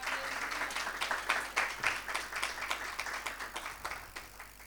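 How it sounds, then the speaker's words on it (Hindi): Hearty congregational applause at an evangelistic church gathering, rapid dense clapping of a crowd that holds steady, somewhat distant and moderately loud. "खुदा के जलाल के लिए जोरदार तालियां।"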